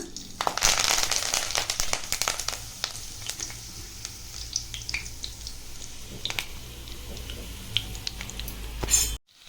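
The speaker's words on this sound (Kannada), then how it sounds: "ಎಣ್ಣೆ ಕಾಯ್ತಾ ಇದೆ. ಈಗ ಕರಿಬೇವು ಹಾಕೊಳ್ಳೋಣ." Curry leaves hit hot oil in a pan while a chicken masala gravy is being cooked, setting off a dense, loud crackle of sizzling and popping that slowly settles into steady frying.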